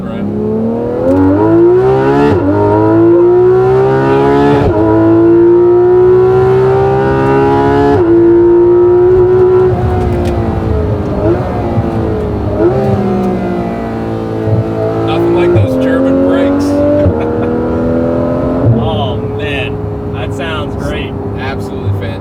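A Porsche GT3 fitted with a Rennsport muffler accelerates hard up an on-ramp, loud and close from inside the car, its engine note climbing through several gear changes with a harsh, rising howl.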